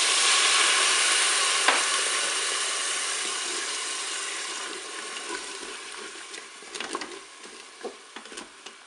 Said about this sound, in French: Je vais verser mon verre de vin blanc.